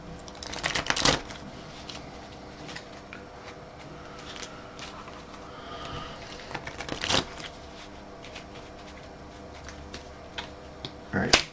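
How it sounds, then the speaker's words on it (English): A deck of cards shuffled during a Marvel Champions card game, giving bursts of rapid riffling and crisp card slaps across the table, with quieter handling between, close and fairly soft. "we need to shuffle my deck"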